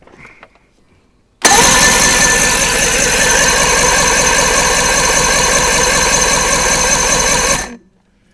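Johnson 90 HP outboard engine cranked over on its starter during a compression test, a loud, steady, rhythmic chugging that runs about six seconds and then stops abruptly.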